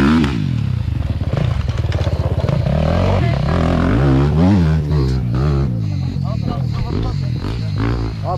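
Motorcycle tackling a trial course at the Hero Motor XTracks event in Urla, Izmir, engine revving and bogging in loud bursts as it climbs obstacles, with clatter and scraping, and people talking nearby.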